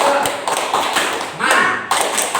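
A classroom of pupils performs the rhythmic 'tepuk semangat' cheer clap, with sharp claps close by in quick patterned bursts, mixed with chanting voices throughout.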